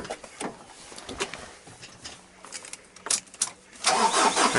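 A diesel engine in a Ford Ranger, Courier, Mazda B2500 or Bravo cranks over repeatedly during fuel line bleeding, a series of uneven starter-driven bursts that grows louder toward the end, with no one talking.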